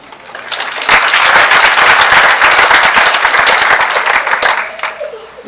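Loud, dense applause from an audience at a 2018 MCC RDH pinning ceremony rises quickly, sustains a steady roar of many hands for about four seconds, then fades.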